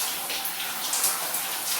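Cool shower water streams steadily onto hair during a final rinse at home, a continuous close hiss of spray that cuts off abruptly at the end.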